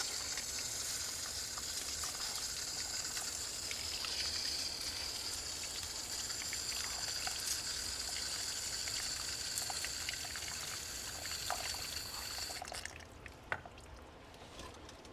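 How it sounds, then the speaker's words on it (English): Tap water runs steadily as soil is rinsed off the roots of a potted Costa Farms cactus, a continuous hissing splash that cuts off near the end and leaves a few drips and clatters. "So I'm gonna run this in running water to take out more of this mix."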